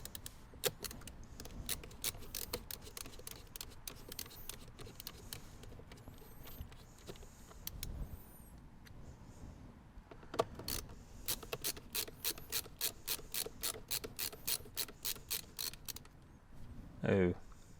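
Rapid ratcheting clicks and scraping from a screwdriver working screws out of a Lexus car part, coming in bursts with pauses, close up, with someone talking quietly at times.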